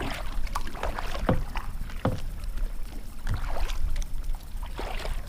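Paddle strokes dip and pull through the water as a small boat moves up a Michigan river, close and steady, with rushing water, trickles and light wind throughout.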